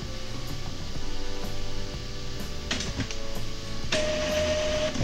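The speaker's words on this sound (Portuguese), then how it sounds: "ele vai começar a fazer o carregamento da tinta para os cartuchos" An Epson EcoTank L3110 printer begins its initial ink charging, humming and whirring steadily with a few clicks and a brief beep, moderately quiet and close, with no speech.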